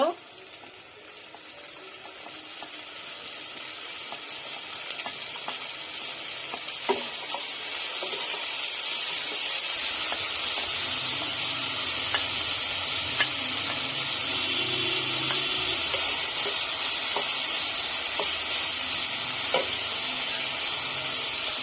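Chopped onion, cauliflower and spring onion frying in a pan for a vegetable chicken soup, a sizzle that builds and then holds steady, with light stirring taps and scrapes throughout and no one talking.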